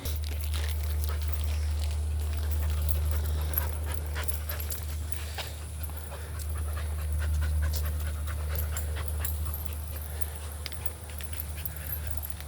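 A dog pants steadily and continuously on a training walk, close by, with light footsteps and faint outdoor background noise.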